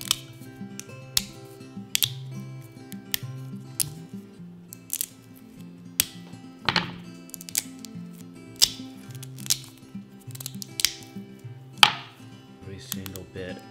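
Support material being snapped and clipped off resin 3D printed parts, a series of sharp, crisp cracks and clicks at irregular intervals, close and distinct over quiet background music.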